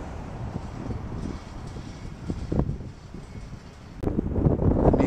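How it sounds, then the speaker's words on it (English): Strong wind blows near a lake, buffeting the microphone in uneven gusts of rushing noise that swell louder toward the end, with no one talking. "Very windy over here."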